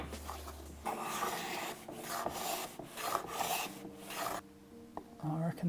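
A hand plane taking fine shavings off a wooden drawer side to fit its dovetails, a series of close rasping strokes in a steady rhythm, with a brief low hum at the start.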